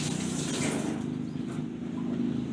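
Goat meat being washed under steady running water, a continuous loud rush with no talking.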